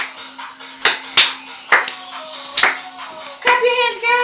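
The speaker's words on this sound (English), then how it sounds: "Clap your hands, girl!" A handful of sharp, separate hand claps land at uneven intervals, each one loud and close, over a steady low hum and some background shuffling.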